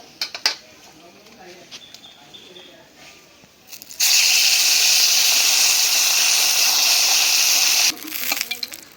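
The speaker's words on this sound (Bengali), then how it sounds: "মাছ ভাজা" Fresh fish sizzles in hot oil in a pan, a loud, steady hiss that starts suddenly, holds for about four seconds and then cuts off, with clinks and kitchen handling before and after.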